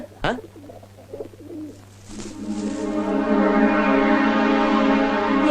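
A pigeon coos close by, first a few soft calls, then a rising, steady run of throaty cooing that grows louder in a Telugu film scene.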